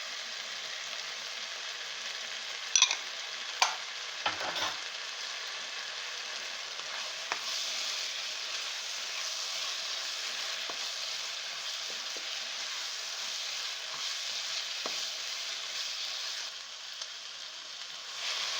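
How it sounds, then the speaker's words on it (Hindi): Beef sizzling steadily as it is stir-fried in ghee with garlic and ginger powder for a sweet Kashmiri meat dish, with a few sharp stirring clatters near the start over a constant moderate fry. "गोश्त को हमने अच्छे तरीके से भून लिया है, घी इसका निकलना शुरू हो गया है"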